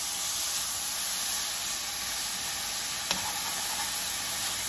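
Philly cheesesteak meat browns in a pan over medium-high heat, a steady broadband sizzle holding at an even level throughout, with one brief sharp tick near the end and no voices.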